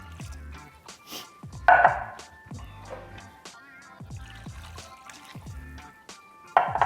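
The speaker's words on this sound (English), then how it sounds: "So now I'm gonna add my 6 cups of water." Six cups of water go into a crockpot holding red beans and rice, heard as quiet splashing bursts and drips between gentle clinks, close by and with no talk.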